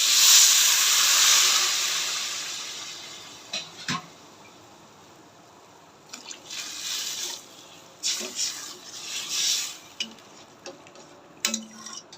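Water poured into a khichuri pot, opening with a loud rush of hissing steam that fades, then intermittent bubbling, stirring and scraping at close range.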